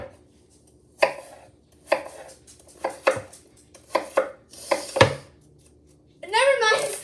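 A knife chops onions on a board in sharp, separate strikes, about seven of them spread across several seconds, followed by a brief burst of other kitchen clatter near the end.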